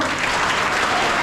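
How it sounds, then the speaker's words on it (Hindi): An audience at a parent-teacher meeting at a school in Hariharganj bursts into sustained, dense applause, many hands clapping together loudly and evenly throughout. "एक माता के लिए सब लोग ताली बजाइए"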